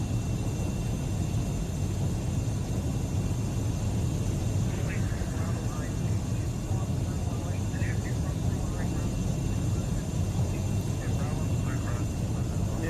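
Aircraft flying over the Australian outback near Alice Springs Airport in the World Flight VR game, a steady engine drone with a faint whine on top that stays constant throughout.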